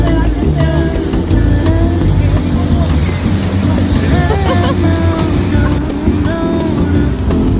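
A car drives along winding mountain roads in Yangsan, Korea, its engine and road noise forming a loud, steady rumble that fills the whole stretch without letup.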